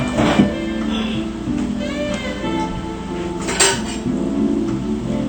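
Salmon and crabmeat cakes being lifted out of a frying pan, with clinking and scraping of a utensil against cookware over a steady background hiss of frying, close by.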